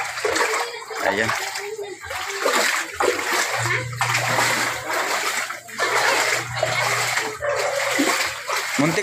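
Steady splashing and rushing water as a boat crosses a deep, swollen river, with bursts of louder surging, a low motor hum in the middle and people talking over it.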